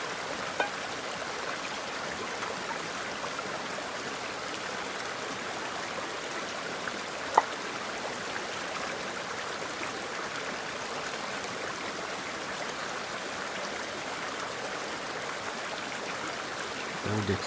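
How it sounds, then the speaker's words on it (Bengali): A forest waterfall stream rushes steadily in a continuous broadband wash, fairly soft and even throughout, with one faint clink near the middle as a pot is washed in the clear water. "ঝর্ণা স্বচ্ছ পানি দিয়ে ডেক্সিটা ধুয়ে নিচ্ছে দেখেন"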